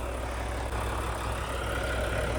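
A 500-horsepower Volvo truck engine idling with a steady low rumble and constant throb, close by and unchanging.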